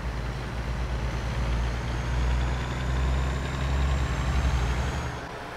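A heavy truck engine drones on a race track in American Truck Simulator, a loud steady low rumble that swells and eases slightly as the rig runs, with no talking.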